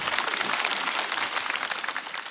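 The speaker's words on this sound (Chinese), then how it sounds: "可以鼓掌，可以鼓掌啊！" Audience applause at a Chinese stand-up comedy show, a dense, steady wash of clapping from a large crowd that stays loud throughout.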